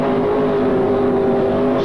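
Sprint cars at the Newcastle Motordrome sweep round a corner in a loud, steady, droning engine roar that holds without a break.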